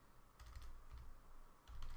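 Quiet typing on a computer keyboard, a few short bursts of soft key clicks with pauses between, faint and close, no voices.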